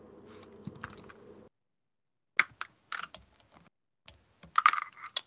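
Keys on a computer keyboard are tapped in short, scattered bursts of clicks after a brief stretch of quiet, close and fairly faint, with no one talking.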